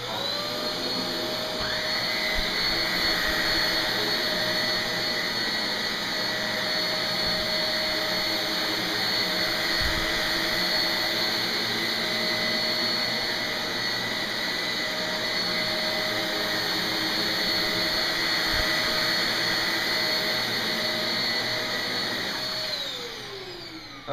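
A Shark Navigator vacuum cleaner runs with its brushes on, a loud steady whine and roar that holds for over twenty seconds before winding down at the end, with a couple of brief knocks along the way.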